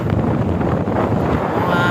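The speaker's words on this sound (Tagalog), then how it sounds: "Pakiingan mo, grabing hangin." Powerful gusting wind blasts steadily against the mic at a monopole antenna tower, a loud unbroken roar with no other clear sounds.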